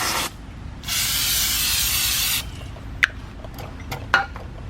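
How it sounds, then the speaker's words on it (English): A steady aerosol spray of brake cleaner hisses for about a second and a half onto a 2002-2006 Nissan Altima rear wheel hub area, followed by a few faint clicks and taps close by. "So we'll spray some brake cleaner."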